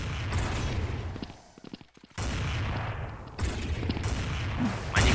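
Gunfire in the Blood Strike video game: sharp, loud shots in rapid bursts, broken by a brief quieter lull before the firing resumes.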